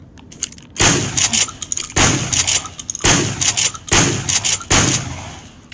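Gunfire in a video game comes in five loud, booming shots spaced roughly a second apart, each with a heavy thump and a ringing tail, close and alone with no talking.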